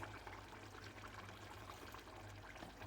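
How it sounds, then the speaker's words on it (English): Water poured into a pot of egusi okro soup, a steady close pour with soft trickling and a low hum underneath, continuous for about three seconds. "I'll add some water in it."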